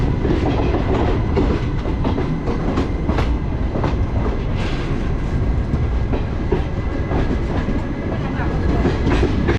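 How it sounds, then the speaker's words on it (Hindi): The Mumbai CSMT–Hyderabad Express departing Lonavala station, heard from on board as a steady loud rumble with rhythmic clickety-clack of wheels over rail joints, with faint voices in the background. "इसके साथ ही हमारे यहाँ लोनावला से डिपार्चर हो रहा है।"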